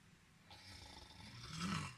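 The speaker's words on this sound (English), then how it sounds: "But while he was snoring" Rising, growly snoring from a wolf in a Little Red Riding Hood storybook telling. It sets in after a quiet start, swells into a rough roaring breath, and is heard alone with no talk.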